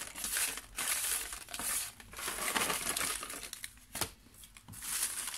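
Paper slips for a prize draw are mixed by hand, producing continuous close crinkling and rustling in repeated bursts with short pauses.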